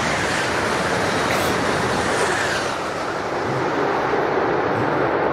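A European high-speed train rushes past, a steady loud roar of wind and rail noise sustained throughout without a break and with no voices.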